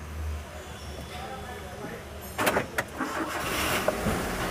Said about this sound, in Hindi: गाड़ी मैंने स्टार्ट कर दिया।